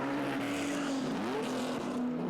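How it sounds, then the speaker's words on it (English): XA Falcon Coupe race car driving on track at a Group A & C tribute session at Winton, a loud sustained engine drone with a pitch that dips and climbs again, continuous throughout. "It's a XA Falcon Coupe."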